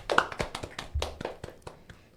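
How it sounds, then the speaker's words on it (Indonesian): Several distinct hand claps ring out one at a time in a loose, uneven rhythm, close and crisp, with quiet gaps between them and no talking. "Tepuk tangan untuk kita semua."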